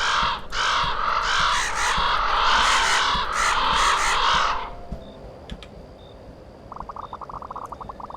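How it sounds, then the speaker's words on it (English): Crows cawing in the VORON: Raven's Story video game, a loud flurry of harsh overlapping caws for several seconds that breaks off into quiet, followed by a faint rapid fluttering pulse. "So why are there so many birds here?"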